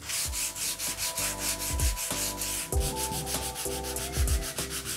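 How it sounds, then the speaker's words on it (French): Old 120-grit abrasive rubs back and forth over a wooden door in steady, rhythmic sanding strokes, close and fairly loud, with no talking. "Je prends un vieux abrasif grain 120."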